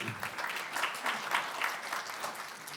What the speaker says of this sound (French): qu'on peut applaudir tout de même